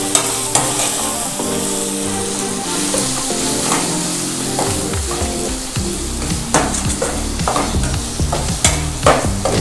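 Paneer dosa filling is stirred vigorously in a hot pan, loud close sizzling with repeated scraping strokes of the spoon and no voices.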